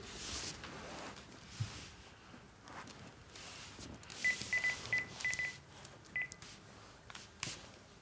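A phone is being dialed: a short run of quick keypad beeps sounds midway through, over steady room noise with scattered faint footsteps and rustling.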